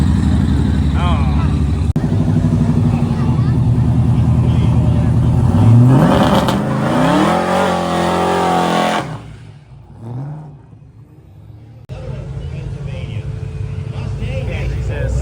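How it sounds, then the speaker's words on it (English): Chevy Blazer inline-six engine revving hard at a car event checkpoint, loud close rising revs then dropping off and idling, with people talking over it. "Inline 6, this thing rips."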